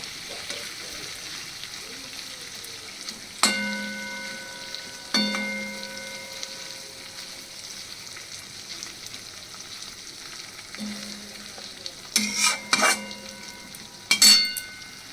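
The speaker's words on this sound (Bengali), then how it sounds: "মাছগুলোকে পেতে পেতে এপাশ ওপাশ করে করে মশলার সাথে ভেজে নেব।" Rohu fish pieces fry in masala in a pan, a low steady sizzle broken by several ringing metallic clinks of the utensil against the pan as the pieces are turned, with clustered knocks near the end.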